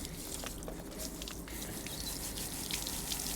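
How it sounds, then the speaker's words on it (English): Running water rinses a K&N air filter from a Honda DC5 Type R, a continuous close splashing and trickling with small drips, steady throughout. "I prefer to rinse the filter beforehand before using the cleaner, just to get rid of those debris"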